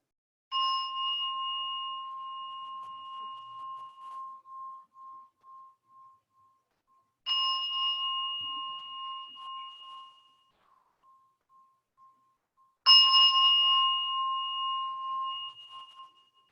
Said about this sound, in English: I'll ring the bell 3 times to bring us into this moment